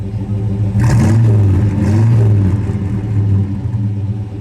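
The 390 cubic inch V8 of a black 1968 Ford Torino GT Fastback rumbles at idle, then gets a couple of quick throttle blips that swell and fall back. It sounds loud and close.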